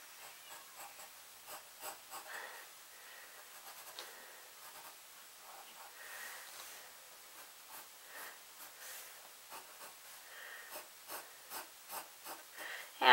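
A pencil sketches 3D block letters on paper with faint, close scratchy strokes in short repeated bursts, some soft breathing nearby and no speech.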